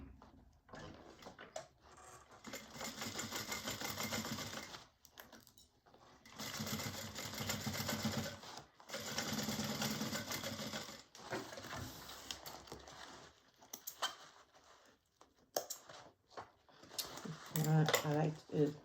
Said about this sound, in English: we're going to sew across there